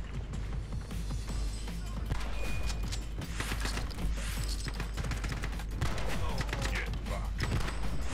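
Shotgun blasts and gunplay from the video game The Club in a prison cells level, dense bursts of impacts and mechanical clatter with faint voices underneath.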